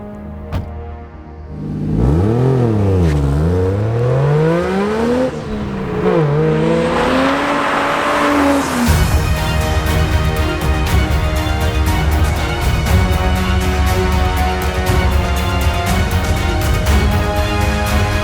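A 1JZ inline-six turbo in a Toyota Chaser drift sedan, heard loud and close from inside, revs up and down in sharp swoops, then holds a steady high-rpm roar.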